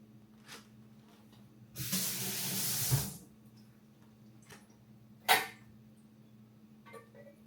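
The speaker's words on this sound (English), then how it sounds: "I'm going to pour most of the liquid off of this." Liquid pours off from an opened can of food in a brief hissing, splashing stream lasting about a second, with a faint hum and a sharp clink afterward; no talking.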